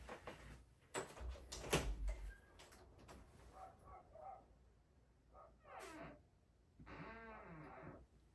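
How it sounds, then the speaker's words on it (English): A door being opened indoors: a cluster of sharp handle and latch clicks and knocks, followed by a creak and softer scrapes as it swings, with a brief squeaky creak near the end, fairly quiet and with no talk. "I will be showing y'all how to open a door."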